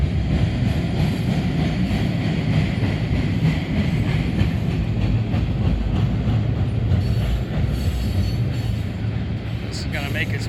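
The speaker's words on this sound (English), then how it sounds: "Got definitely a mixture here of ethanol and covered hoppers," A long freight train of ethanol tank cars and covered grain hoppers rolls past close by near Oak Harbor, a steady loud rumble of wheels and cars with faint clatter throughout and a brief higher squeal near the end.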